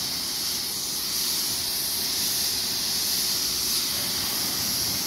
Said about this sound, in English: I'm just kind of spraying it all down.